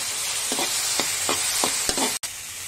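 Tomatoes cooking in a pan while making honey chilli potato, with a steady close sizzle and several distinct stirring scrapes spaced through it.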